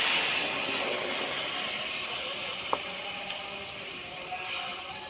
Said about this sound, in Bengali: এরপরে আমি সবজি সেদ্ধ হওয়া পর্যন্ত জল অ্যাড করছি